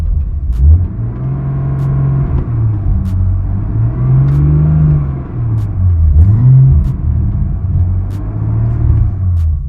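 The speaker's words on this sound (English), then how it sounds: "I get this weird whining noise coming from the front of the car. It almost sounds like a supercharger whine" A BMW 340i idles and revs with a steady engine rumble, a supercharger-like whine from the front of the car rising and falling in pitch alongside it, with faint periodic ticks and no voices.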